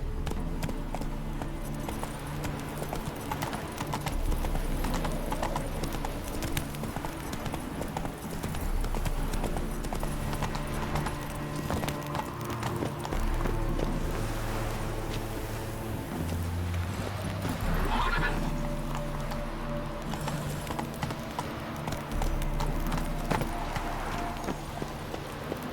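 In a Witcher video game, a horse gallops with steady, rhythmic hoof clip-clops throughout, loud and close, over a low droning music bed.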